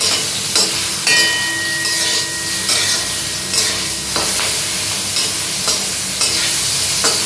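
Cumin seeds sizzle and crackle in hot oil for a tangy dal, a loud, steady frying hiss with periodic stirring scrapes and bursts, no talking.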